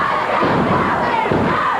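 A wrestling crowd at a CWA Memphis battle royal roars steadily for Jeff Jarrett, a dense continuous wash of cheering and shouting with a couple of dull thuds underneath.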